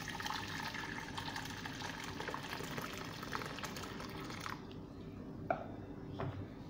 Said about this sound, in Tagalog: So ayan, magpakulo na tayo ng tubig.